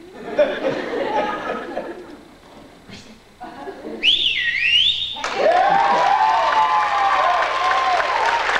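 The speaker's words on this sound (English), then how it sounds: "can you whistle?" A person whistles a few swooping, wavering notes on a TV variety show, loud and close, while a studio audience claps and laughs around them.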